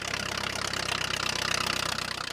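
Old road grader fitted with a replacement tractor engine, idling steadily with a rapid, even mechanical chug and slight knock, close and continuous with no voices.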